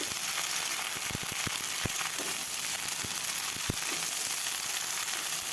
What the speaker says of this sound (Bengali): পুঁই শাকটা দিয়ে ভালোভাবে নেড়ে নেব।